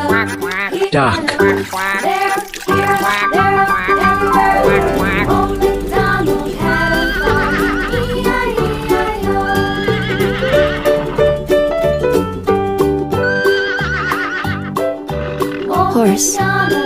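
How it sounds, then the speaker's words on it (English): A cartoon farm horse neighs and whinnies clearly over an upbeat children's song, with clip-clopping hooves and steady music underneath. "Horse."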